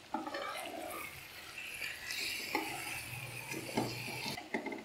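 Chicken being stirred and scraped on a tawa over a medium flame, with repeated metallic clatters and scrapes over a steady sizzle, close and fairly loud throughout.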